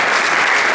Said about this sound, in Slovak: Veľký potlesk, samozrejme.